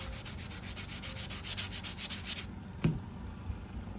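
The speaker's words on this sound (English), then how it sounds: "you can come through and carefully sand it" Hand sanding across a wet wood dresser top, a steady rhythmic scrubbing of about a dozen close strokes that stops, followed by a single knock.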